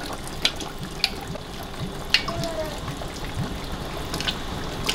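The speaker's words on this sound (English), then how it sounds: "Coconut milk going in." Coconut milk pours into a seafood boil pot, a continuous liquid splashing and sizzling wash with a few small pops, close and steady for five seconds.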